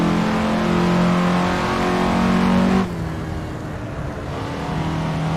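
A 1950s Indy roadster engine in Assetto Corsa revs loudly and steadily with a strong droning tone, then drops abruptly to a lower, quieter pitch before slowly building again.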